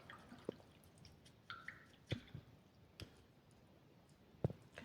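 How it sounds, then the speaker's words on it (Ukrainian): A paintbrush being rinsed in a water cup after brown paint, heard as quiet, sparse drips and small clicking splashes, close but faint, with no talking. "І я промиваю пензлик."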